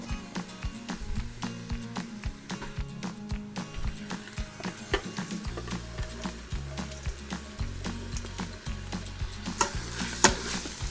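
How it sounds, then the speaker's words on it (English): Ground burger and bacon go into an Instant Pot and are stirred, sizzling and frying steadily with clinks and scrapes of a utensil against the pot, accompanied by a soft repeating background tune. "Now I'm going to add the burger and the bacon back into the pot"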